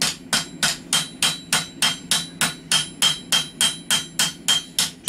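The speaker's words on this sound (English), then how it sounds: "I'm putting a decorative hammer pattern on the blade." Steady metal hammer strikes put a decorative pattern on a hand-forged steel nakiri cleaver blade, about three ringing blows per second, sharp and close, repeating evenly with a faint hum underneath.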